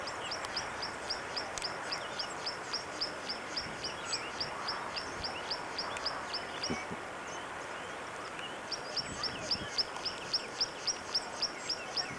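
Small birds in a South African botanical garden give repeated rhythmic high chirps in quick regular series, fairly faint over a soft outdoor hiss, pausing briefly midway before resuming.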